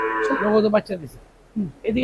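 Dairy cows kept for milk at a farm, lowing in two close, loud moos, a long one followed by a short one after a brief pause.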